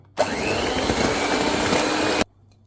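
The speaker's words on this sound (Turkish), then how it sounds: "Bir tur karıştıralım." An electric mixer whirs steadily for about two seconds while blending eggs and milk into marble cake batter, starting abruptly with a loud motor drone and cutting off sharply to quiet.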